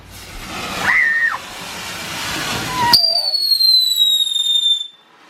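A firework launches with a rising whoosh, then a loud shrill whistle screams steadily downward in pitch for about two seconds before cutting off, outdoors in the rain on New Year's in Hawaii.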